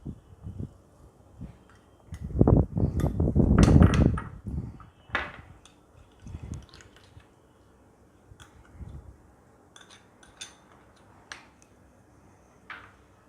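Roasted ginger, garlic and mango being mixed together for a garlic ginger pickle, with a burst of scraping and clattering utensil sounds early on, then scattered lighter taps and clicks.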